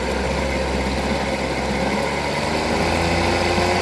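A Chrysler 4.4 hp outboard motor runs steadily at raised revs, a constant droning engine note close by with a slight shift in pitch partway through, no voices.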